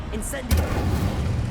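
A fire spell cast in a Harry Potter video game: a sudden booming burst that settles into a low, rumbling roar sustained to the end, close and fairly loud.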